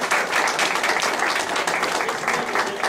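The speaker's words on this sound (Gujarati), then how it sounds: "ફરી વખત તાળીઓના ગળગળાટથી બંનેને વધાવીએ" An audience at a literary evening bursts into loud, sustained applause. Dense clapping fills the whole stretch without letting up.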